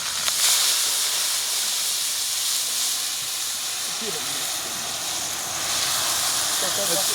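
Mutton pieces hitting a hot pan for nati-style mutton nalli bone kabab give off a loud, steady steam-laden sizzle and hiss that holds evenly throughout, close up.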